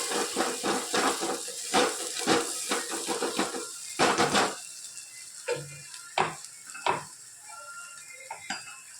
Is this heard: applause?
no